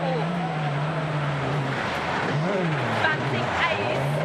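An Austrian driver's S2000 rally car launches onto a special stage, its engine rising and falling in pitch through revs and gear changes, with a commentator talking over the whole stretch.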